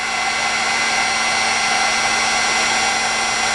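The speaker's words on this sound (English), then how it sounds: "Then little by little I'm coming down with the heat gun" A heat gun melting ultra thick embossing powder on a watercolor journal page, giving a steady, loud, close blowing whir with a constant motor hum that never changes.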